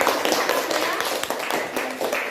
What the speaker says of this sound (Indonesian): Berikan tepuk tangan dulu teman-teman yang baru.